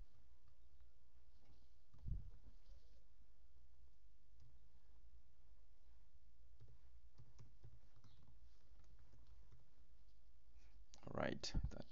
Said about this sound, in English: Let me type in a password.